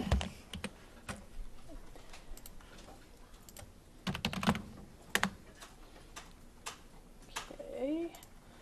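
Keystrokes on a computer keyboard in scattered bursts of clicks with pauses between, fairly close and moderately quiet, over a faint room background.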